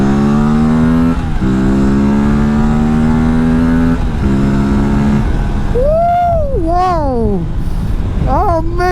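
An Aprilia RS457 sport motorcycle of about 400cc on a ride, its engine droning loud and near with steady rising pitch, then revving sharply through quick up-and-down sweeps as it accelerates and shifts.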